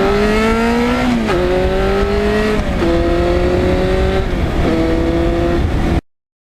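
Loud 1991 Yamaha FZR 1000 inline-four sport motorcycle riding on an open road, engine note rising steadily through several gears with brief dips at each upshift, close and continuous throughout.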